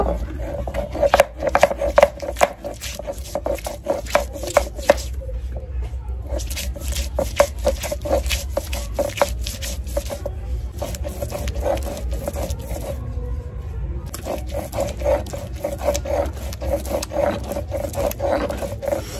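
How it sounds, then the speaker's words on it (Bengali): Ginger and garlic being ground into paste on a stone slab, a steady rough scraping and rubbing that repeats continuously at close range and pauses briefly twice, with no voices. "এখন মাংসের জন্য আদা রসুনটা বেটে নেব"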